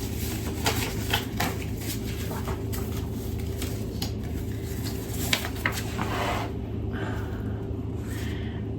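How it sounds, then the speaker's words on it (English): A deck of TBR cards being shuffled produces soft, continuous papery riffling and flicking close by over a steady low background hum, with no talking. "I'm going to take that card out and shuffle."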